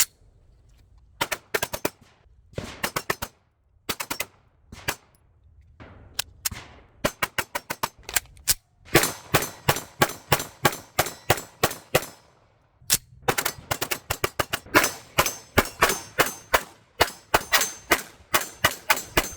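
A Cosaint Arms COS21 double stack 1911 pistol firing a magazine, heard as sharp, loud shots, first spaced and scattered, then in fast steady strings, with metallic ringing between them and no talk.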